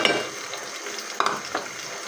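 Chopped onions drop into hot oil in a pan for a potato and egg curry, giving a short, close sizzle with a few stirring scrapes.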